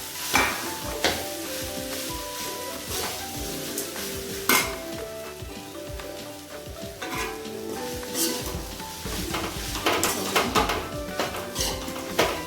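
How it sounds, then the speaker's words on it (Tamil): Cooked rice being stirred into a pan of frying gooseberry mixture, a spoon scraping and clinking against the pan in irregular strokes over a steady close sizzle. "இப்போ நம்ம இந்த ரைஸ் போட்டு கலந்துக்கலாம்"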